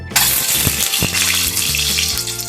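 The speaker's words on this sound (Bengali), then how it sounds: "সেই ডিমগুলোকে হালকা ভেজে নেব" Eggs lightly frying in white oil in a wok, a steady close sizzle with soft crackling pops and a low background hum throughout.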